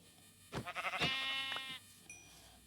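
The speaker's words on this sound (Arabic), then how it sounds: "ذا خروف ايضا." A single Minecraft sheep bleats in a wavering, quavering cry, fairly clear over quiet background, followed by a faint short tone.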